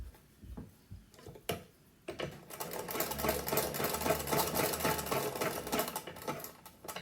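Sewing machine stitching elastic onto a fabric bowl cover: a few short starts and stops, then a steady fast mechanical rattle of the needle running for several seconds before easing off.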